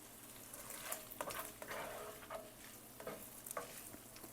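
Sausage browning in a frying pan for homemade sausage gravy gives a steady close sizzle, broken by a few louder crackles and spits with no one speaking.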